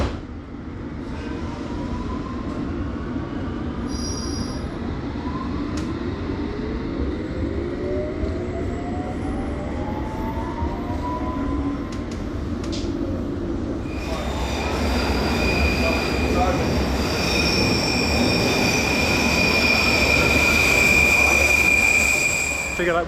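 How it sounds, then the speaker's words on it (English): A London Underground District Line train runs along the track with a continuous rumbling roar and rising squeals from the wheels, growing louder and harsher in the second half as it picks up noise. "This is a District Line train to Wimbledon"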